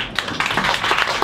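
Audience applause after a poetry reading, a short burst of close, lively hand clapping from a small crowd.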